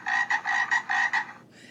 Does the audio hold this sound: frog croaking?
yes